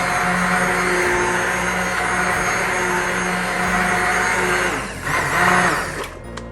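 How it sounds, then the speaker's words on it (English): An immersion blender whirs steadily as it purées vichyssoise soup, a loud, constant motor whine that shifts in pitch near the end as the blade moves through the pot. "It's looking as if George has done a very successful job with an immersion blender"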